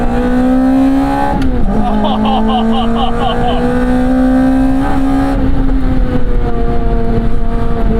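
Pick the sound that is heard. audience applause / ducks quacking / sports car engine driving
sports car engine driving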